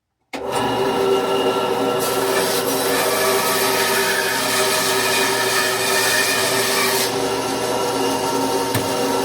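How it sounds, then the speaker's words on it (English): A wood blank spins on a lathe as a tool cuts a tenon, giving a steady, loud, continuous whirring scrape that starts abruptly and runs unbroken, with the tone changing partway through and no talking. "Now we're going to cut off a little section there to get our tenon."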